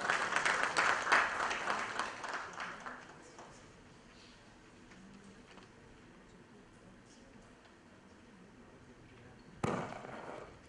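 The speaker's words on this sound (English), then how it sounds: "Sir, a round of applause please for sir" A seated audience at a government digital summit applauds a speaker, a burst of clapping that fades over a few seconds into quiet room tone, then a brief second flurry near the end.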